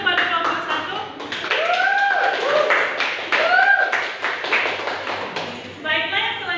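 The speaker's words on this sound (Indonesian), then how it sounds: "Berikan tepuk tangan kepada kelompok 1." Classroom applause for a student group breaks out as rapid, uneven clapping from many hands, fairly close, with voices and a few exclamations mixed in.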